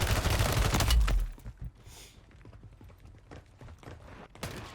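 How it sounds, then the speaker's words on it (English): Gunfire in a battle royale video game: a loud burst of rapid shots in the first second, then sparse, quieter scattered shots and distant clatter. "I was getting shot at the gas station."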